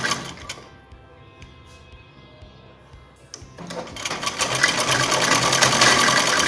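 A sewing machine stitches anarkali dress panels, starting with quiet mechanical ticking and then building into a loud, fast, steady whir of the running needle, close by.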